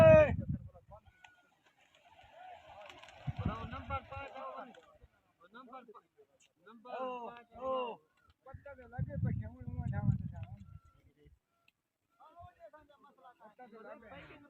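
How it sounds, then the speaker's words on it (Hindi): Pigeons at a half-hour pigeon-flying competition, with soft bursts of cooing and wing flutter coming and going in irregular clusters, mixed with a low rumble and nearby chatter. "कबूतर माशाल्लाह से उड़ रहे हैं"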